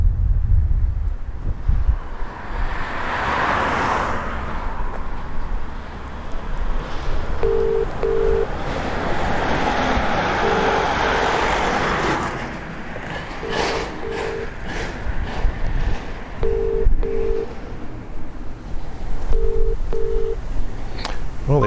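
A telephone line gives a repeated busy signal, short paired beeps recurring at steady intervals over roughly twelve seconds, heard under loud outdoor wind buffeting the microphone.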